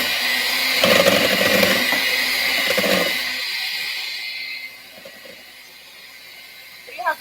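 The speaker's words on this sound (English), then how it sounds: "I'm going to go ahead and mix it again." An electric mixer whirring through banana pudding, with a steady close motor whine and rattle for about three seconds that then tapers off, leaving faint kitchen sounds.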